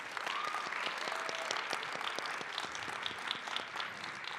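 An audience at a high school jazz ensemble and vocal showcase applauds the accompanist, a steady, fairly quiet round of many hands clapping with some sharper individual claps, without talk.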